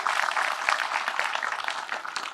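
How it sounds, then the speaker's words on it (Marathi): A crowd applauds at a Navratri festival event in Shirdi, a steady, moderately distant wash of clapping that lasts the whole stretch with no talk over it. "गुरुजी करता आपण एक जर जोरदार टाळ्या वाजवले पाहिजे आपल्या सर्वांना"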